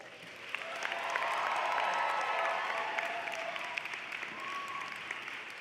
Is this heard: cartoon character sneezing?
no